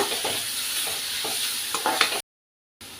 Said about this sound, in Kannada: ಟೊಮೊಟೊ ಹಾಕ್ಕೊಳ್ತಿದ್ದೀನಿ ಚೆನ್ನಾಗಿ ಮಿಕ್ಸ್ ಆಗ್ಬೇಕ ಸ್ವಲ್ಪ ಸಾಫ್ಟ್ ಆಗಬೇಕು